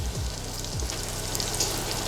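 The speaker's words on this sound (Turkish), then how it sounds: "Tereyağımız erimeye başladığı zaman sarımsağını içine atıyoruz." Chopped garlic sizzles in melting butter for a baked mac and cheese sauce, giving a steady, close frying hiss with faint low pops and no talking.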